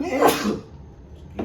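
A single sharp sneeze bursts out close and loud at the start, followed after a pause by a man's brief spoken apology.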